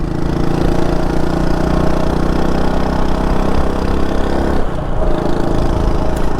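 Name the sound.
small-bore motorcycle engine running, backfiring a bit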